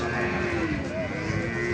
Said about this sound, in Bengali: সেই সুবিশাল সুবিশাল দুটো মহিষ দুটোই ছেলে মহিষ